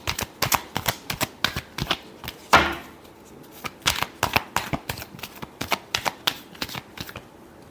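A deck of tarot cards is shuffled up close in a steady series of crisp riffling flutters, with one louder slap partway through.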